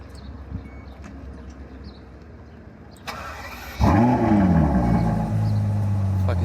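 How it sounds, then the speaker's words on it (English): Ferrari 812 Superfast cold start: after quiet background noise, the starter catches and the V12 fires with a loud rising revving flare, then settles into a steady, strong idle close by. "if you want to hear the cold start of 812 Superfast"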